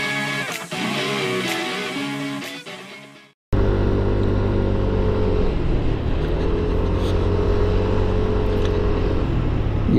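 A Yamaha NMAX 160 scooter out on a ride gives a steady, fairly loud engine drone mixed with rushing wind. The sound cuts out briefly a few seconds in, then resumes, with no talking.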